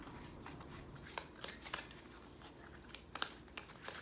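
Soft, intermittent riffling of cards being shuffled, quiet and close, with small irregular flicks and taps and no talking.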